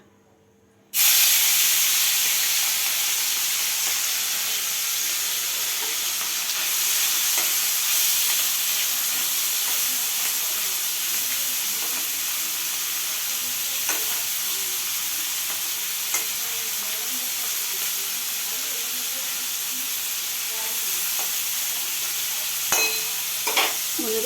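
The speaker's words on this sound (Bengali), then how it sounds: "প্রথমে মাছটাকে একটুখানি বন্ধুরা ভেজে নিতে হবে ভালো করে।" Fish fries steadily in a pan of hot oil for about twenty-three seconds, with a continuous broadband sizzle and hiss and a few faint stirring clicks near the end, heard alone without any voices.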